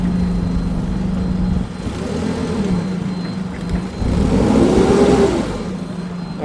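Engine of a Nissan UniCarrier 5,000 lb pneumatic-tire forklift revving in gear, with a steady low idle that rises into two swelling revs, loud and close with no talking.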